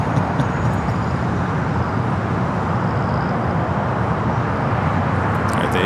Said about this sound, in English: the A380 Super making its way over there to the gates